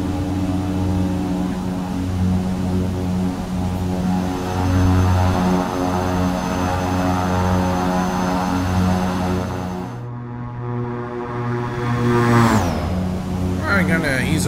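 Embraer EMB-110 twin-propeller aircraft in flight in the X-Plane 11 simulator, a loud steady engine drone with a throbbing propeller hum that shifts pitch and dips briefly as power eases off.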